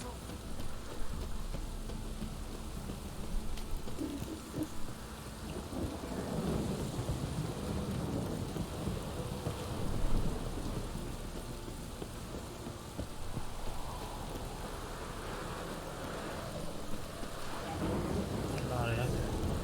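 Rain falls steadily during a thunderstorm in The Witcher 3: Wild Hunt, a constant hiss with deep rolling thunder rumbles, and a voice is briefly heard over it.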